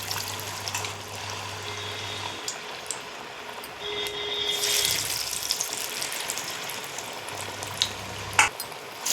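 Banana flower vada frying in hot oil, a steady soft crackle and hiss close by, easing partway through before picking up again, with a brief clink near the end.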